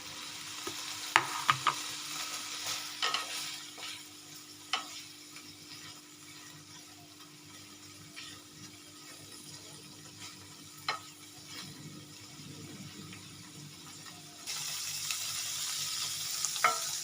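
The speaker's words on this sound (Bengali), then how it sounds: "আমি পনিরটাকে একটু মাখন দিয়ে ভেজে নেব।" Paneer fries in butter in a pan with a quiet, steady sizzle, broken by occasional light clicks and scrapes of a utensil, and the hiss brightens toward the end.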